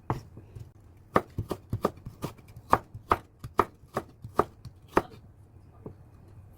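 Kitchen knife cutting burdock root into thin julienne strips on a cutting board, a steady series of crisp, close chops in an uneven rhythm with brief pauses, no talking.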